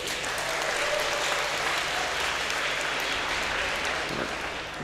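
Steady, dense applause from a large crowd at a StarLadder Dota 2 esports match between NaVi and Team Secret, sustained and even throughout with no breaks.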